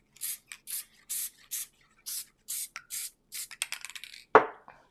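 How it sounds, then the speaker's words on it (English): A series of short, hissing bursts from a spray adhesive can in an uneven rhythm, growing quicker toward the end, followed by a sharp tap, close and fairly quiet. "it's just such a fast way to add adhesive. So let's give it a quick spray."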